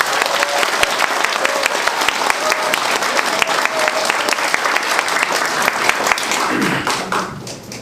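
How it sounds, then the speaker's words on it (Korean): A crowd at a political speech applauds loudly and continuously for several seconds, a thick, close roar of many hands that tapers off at the end. "박수 한번 드립니다"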